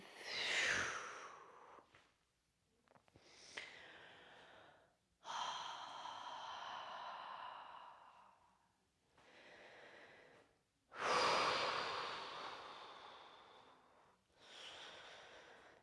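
Slow, deep breaths during a gentle yoga movement session: long soft inhales and exhales, some ending in audible sighs, quiet and close with pauses of near silence between them.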